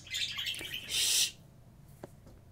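Pet birds chirp indoors in a few quick tweets and one brighter burst of song, close by but soft, followed by a couple of faint clicks.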